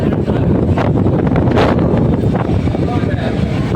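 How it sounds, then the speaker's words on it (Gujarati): Strong coastal wind at Bet Dwarka buffets the microphone with a steady, loud roar throughout, with brief gusts rising above it. "અત્યારનો પવન પણ ફૂલ છે ભાઈ"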